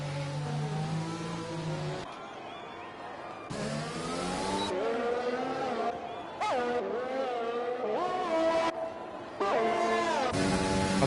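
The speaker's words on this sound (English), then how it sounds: "We have cars going out on track now" F1 race cars at the Azerbaijan circuit in an F1 game scream loudly with sweeping, shifting engine pitch, one car after another rushing past in bursts separated by short quieter gaps.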